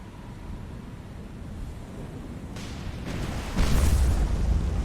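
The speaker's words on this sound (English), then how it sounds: "Oh, that was a massive explosion." A deep, rumbling explosion in the naval combat game War On The Sea swells after a few seconds of low ambient noise and stays loud, heavy and sustained to the end.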